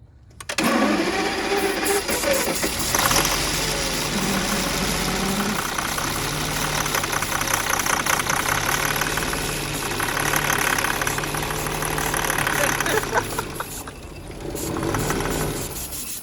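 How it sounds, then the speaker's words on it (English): A Mercedes V12 engine fitted in a 1954 Chevy Bel Air runs loud and close, a dense continuous roar with a rough, uneven rumble that swells and dips over about sixteen seconds and drops off briefly near the end. "I have a video of it running."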